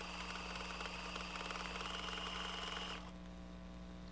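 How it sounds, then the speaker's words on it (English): Fabric leaves are stitched onto a quilt with green thread by a sewing machine that whirs in a quick, steady rattle for about three seconds and then stops, leaving a soft hum, with no voices. "I'm just going to stitch all the way around the edge of each one of my"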